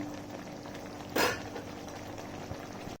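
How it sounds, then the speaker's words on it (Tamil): Tamarind water with bitter gourd bubbles and simmers steadily in a pot, with a brief scraping clatter partway through against a constant low kitchen hum. "புளி தண்ணியெல்லாம் ஊற்றுனதுக்கப்புறம் நல்லா கொதிக்குது"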